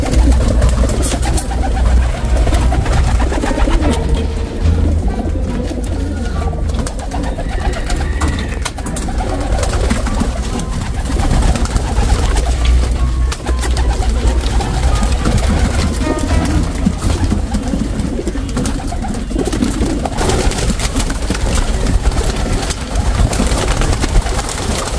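Racing pigeons of rare colours, breeding birds loose from their loft, coo in soft repeated rolling calls close by, over a constant background rumble.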